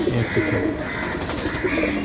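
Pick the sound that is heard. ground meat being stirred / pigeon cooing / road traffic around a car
pigeon cooing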